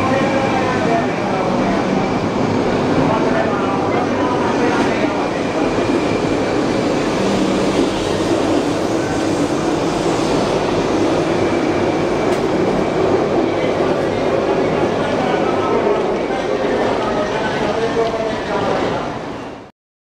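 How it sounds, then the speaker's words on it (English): Steady, loud interior rumble of a Japanese bullet train in motion, a continuous roar with faint rhythmic rattling and muffled voices in the cabin. "Riding a bullet train."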